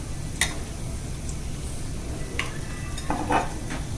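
Crispy chicken coated in chilli and Schezwan sauces sizzles steadily in a pan, with a few sharp spoon scrapes and clinks of stirring close by and no voices.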